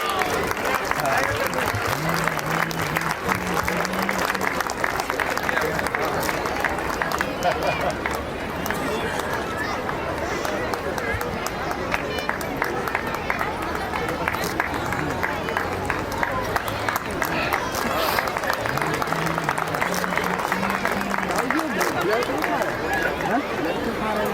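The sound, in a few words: audience clapping at a school prize distribution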